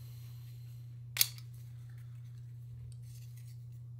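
A Go Sun flatware spoon and fork clink once in a single sharp metallic tap, followed by faint rustling handling against a steady low hum.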